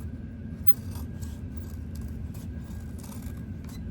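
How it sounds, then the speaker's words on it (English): Scissors trimming the fabric corner of a sewn bag, a steady rasping, rubbing cut heard close and continuous, with a few faint snips on top and no talking. "I'm going to trim this corner."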